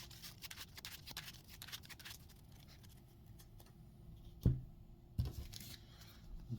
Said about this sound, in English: So we shuffle the cards we put aside back into our deck.